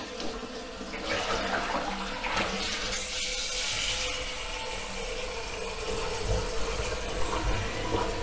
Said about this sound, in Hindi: हो गया, पानी भर के देखते हैं।